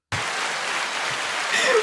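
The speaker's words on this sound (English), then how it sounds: "Why the applause?" Dense, steady applause from a studio audience starts abruptly and holds at an even level for under two seconds, with a few brighter tones breaking in near the end.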